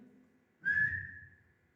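A single sharp whistle from a person rings out loud and close, a clear high tone that begins abruptly and then fades over about half a second, preceded by a faint low murmur.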